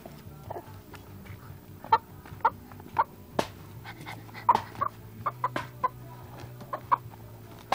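A pet chicken clucks in short, sharp bursts while a child chases it around, the repeated squawks scattered at close range over a faint background hum.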